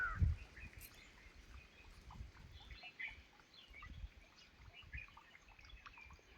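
Faint bird calls and chirps scattered over a quiet outdoor background near a small summer water hole where birds drink, with a soft trickle of water, distant and sparse.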